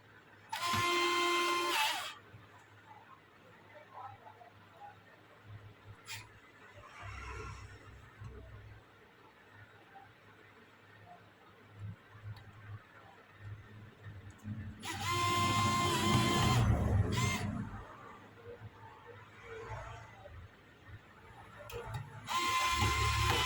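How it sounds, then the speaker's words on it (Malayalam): A Bosch Go smart electric screwdriver whirs in bursts at close range as it drives screws, with several spaced runs separated by quieter handling noise and low background hum. "ഞാൻ 4 സ്ക്രൂവും വന്നിട്ട് നമ്മുടെ ഇലക്ട്രിക് സ്ക്രൂ ഡ്രൈവർ വെച്ച് റീസ്ക്രൂ ചെയ്തിട്ടുണ്ട്"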